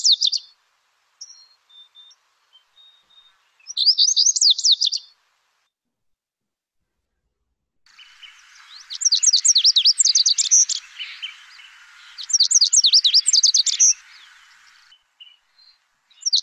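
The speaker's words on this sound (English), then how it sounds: "And then the bunting." A lazuli bunting singing near Lake Tahoe: bright, high, rapid warbled phrases in several separate bursts with quiet gaps between them, clear and alone.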